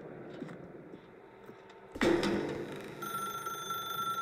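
A telephone rings loudly in The Stanley Parable video game, a sudden burst of continuous electronic ringing that cuts in midway over a quiet room tone and keeps going.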